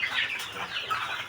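Rhode Island Red and Wassache roosters cluck and call in a fowl yard in Bamako, a close, busy run of overlapping squawks lasting just over a second.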